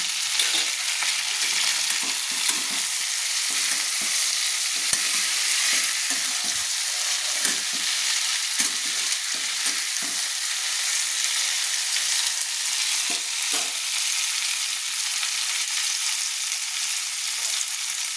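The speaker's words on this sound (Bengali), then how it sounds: "যেহেতু আমি ভেজে রেখেছিলাম সেহেতু আমি খুব বেশি নাড়ছি না, হালকা নেড়ে নিচ্ছি।" Fried string beans with chopped tomato are stirred gently in a hot pan, with a steady close sizzle and faint scattered scrapes and taps of a spoon.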